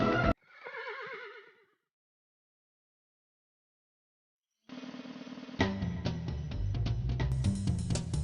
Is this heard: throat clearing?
no